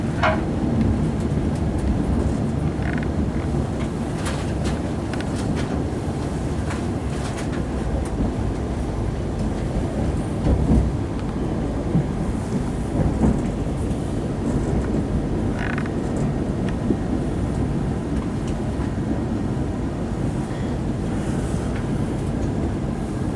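Steady, loud rumble of a train running toward Manchester Oxford Road, heard from inside the carriage, with occasional creaks and rattles of the rolling stock over the continuous low roar.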